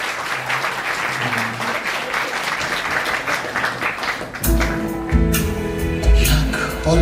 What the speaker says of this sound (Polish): Raz jeszcze duże brawa dla Państwa młodych.